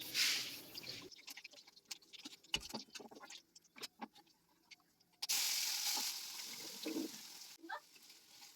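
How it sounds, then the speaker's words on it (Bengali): Small puti fish fry in oil in a wok, giving intermittent crackling pops and short bursts of sizzle separated by quieter gaps, with a louder steady spell of spitting oil near the end. "এইভাবে আমি সব মাছগুলো ভেজে নেব।"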